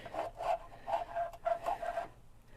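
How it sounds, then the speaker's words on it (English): A socket slipping and stripping on a bolt extractor while working on a 1972 Porsche 914 that sat for over 30 years: repeated rasping, grinding bursts in a rough rhythm of four or five pulses, fairly close and moderately loud, with no talk. "I think that's the socket stripping out"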